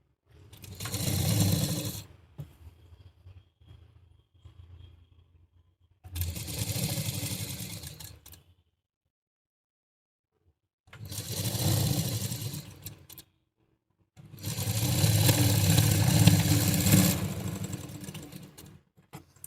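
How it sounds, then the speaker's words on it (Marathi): A sewing machine stitching a gown runs in four separate bursts of whirring motor hum, each lasting a few seconds with silent pauses between, the last run longest and loudest. "आता याच्यावर परत एक डबल शिलाई मारूया आपण."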